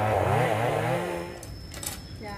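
A chainsaw cuts the top of a golden wattle (tràm bông vàng) tree, its engine snarl rising and falling for about a second before dropping away into quieter rustling and crackling of falling branches.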